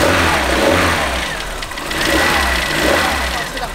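A Peugeot 205 GTI 1900 engine running with uneven revving swells and a rough, knocking low rumble, loud and close, with no talk.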